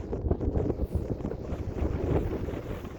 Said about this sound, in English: that little gust right there is because I'm talking about it